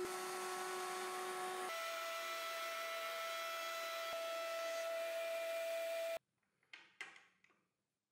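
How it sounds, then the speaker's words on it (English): A power tool whines steadily up close while chamfering the edges of screw holes in a board for a cast iron table saw setup, its pitch shifting midway before stopping, followed by a few faint clicks and handling sounds. "I made four holes for the screws and I'm also going to chamfer their edges."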